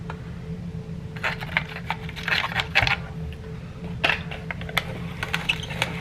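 Mr Peanut peanut machine being cranked by hand, giving a run of close, light metallic clicks and rattles as peanuts shake loose, in scattered bursts over a steady low hum.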